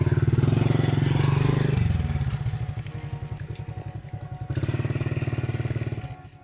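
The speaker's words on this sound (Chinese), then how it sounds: "可恶，竟然可以坐摩托上来！" A motorcycle climbs a steep hill road at Bukit Botak near Felda Redong, Labis. Its engine throbs loudly up close, dips as the revs ease, then surges again before fading.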